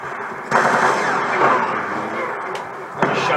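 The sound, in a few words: gunfire from Call of Duty Black Ops 2 video game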